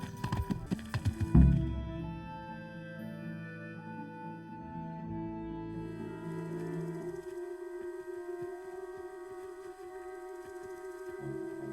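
Rhythmic clip-clop of horse hooves from a video game, a few sharp loud steps at the start, then a steady close patter under sustained tonal game music.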